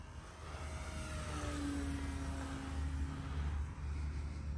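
Radio-controlled P-51 Mustang model plane flying at steady throttle, a distant engine drone holding an even pitch with a gentle swell as it passes.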